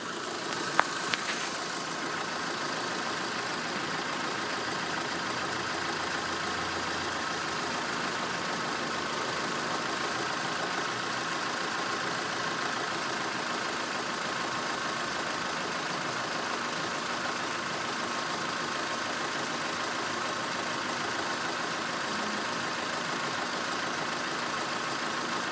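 A 2003 Mitsubishi Lancer's 2.0-litre engine idles steadily for the whole stretch, a constant even drone with no revving and no talk.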